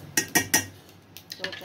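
A spoon drops yogurt into a cooking pot, three quick metallic clinks against the rim, then a short pause and a few softer taps.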